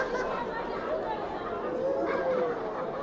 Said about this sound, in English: Incredible crowd in the stands of beautiful TIO Stadium.